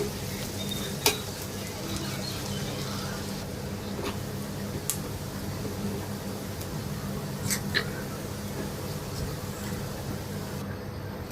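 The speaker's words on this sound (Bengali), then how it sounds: "সরিষার তেল দিয়ে পেঁয়াজগুলো ভেজে নিচ্ছি" Onions fry in mustard oil in a pan, giving a constant close sizzle with a few sharp ticks and clicks from stirring.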